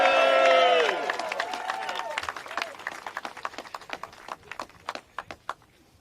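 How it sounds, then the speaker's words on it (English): Crowd applauding council members at an outdoor mayoral event, clapping thinning out into scattered individual claps that fade toward the end, following a loud burst of overlapping voices and cheering at the start. "Give them all a big round of applause."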